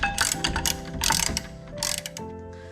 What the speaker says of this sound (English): get the ratchet around there and finish tightening it up the rest of the way